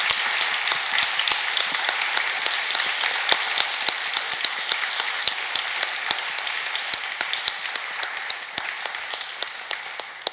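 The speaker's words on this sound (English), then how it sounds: "So please an applause for Ali, Sherry, and for the..." An audience at a panel on contemporary art and peace-making applauds for around ten seconds, a sustained roomful of clapping with individual sharp claps standing out, heard from some distance.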